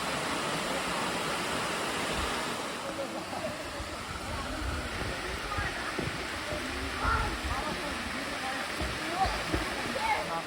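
Steady broadband rushing of a waterfall beside a trail, a constant close wash of falling water with no pauses, while people talk faintly over it.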